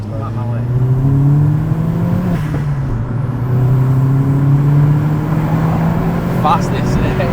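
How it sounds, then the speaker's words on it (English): A Vauxhall Astra VXR with an upgraded exhaust pulls hard, its engine note rising, dipping at a gear change, then climbing again, with loud induction roar and exhaust noise inside the cabin and voices now and then. "It's a perfect level of induction noise. It is. And exhaust noise."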